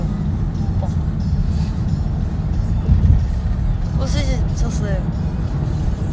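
Low, steady rumble of a car driving, heard from inside the cabin, with road noise running continuously beneath people talking.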